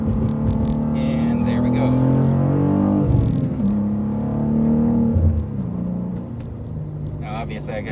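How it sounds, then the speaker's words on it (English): A 2024 BMW M2 with a manual gearbox is downshifted to second and pulled hard through a corner, its engine droning and rising in steady harmonic tones from inside the cabin, with someone talking briefly near the end. "So we'll kick it down to second, so I got some torque going into this corner."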